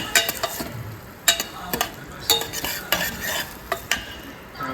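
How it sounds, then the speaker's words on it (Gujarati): Chopped onions fry and are stirred in a pan to brown, with a soft sizzle beneath irregular scraping strokes and utensil clatter, close and moderately loud. "કાંદા તો એડ હો ગયા. હવે થોડીક વાર બ્રાઉન જેવા થવા દેવાના."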